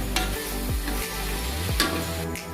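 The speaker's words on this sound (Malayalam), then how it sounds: "ഇനി ഇതിലേക്ക് നമുക്ക് തക്കാളി ഇട്ട് കൊടുക്കുകയാണ്" Ripe tomatoes hit a hot pan and fry with a steady sizzle, broken by a few scraping stirs of a spoon against the pan, close and continuous with no voices.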